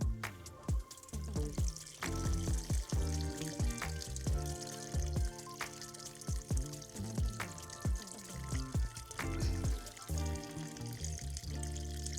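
Water pouring and splashing steadily onto soil and leaves of a potted plant in a planter, with soft trickles and small knocks, close by and fairly quiet.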